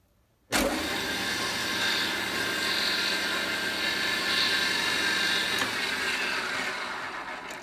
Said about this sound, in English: Wait for the drill to stop, then take it out of there.